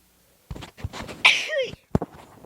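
A single sharp sneeze bursts out amid soft background movement, followed by a brief quieter sound.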